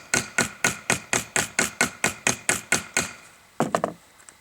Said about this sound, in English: then we take the hammer and we just set it down